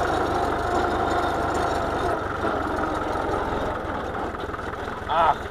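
A Güldner tractor engine runs steadily at close range, a low continuous rumble with a slight drop in level partway through and a brief sharper knock near the end.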